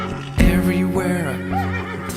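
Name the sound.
horse neighing in nursery rhyme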